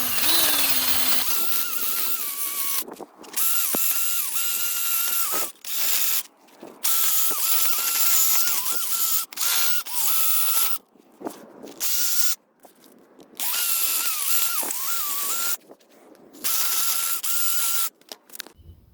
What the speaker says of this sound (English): follow up with your wire wheel and your drill gun to even get a little bit cleaner